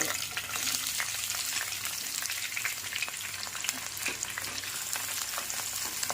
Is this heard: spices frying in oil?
yes